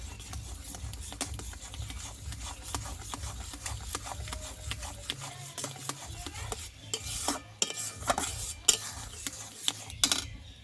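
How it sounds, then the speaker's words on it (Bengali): Semolina stirred in a pot for mango laddu, with continuous close scraping and rubbing strokes of a spoon against the pot and occasional sharper clinks, fairly quiet throughout. "সুজিটা দিয়ে ভালোভাবে নাড়াচাড়া করতে থাকবো এইভাবে"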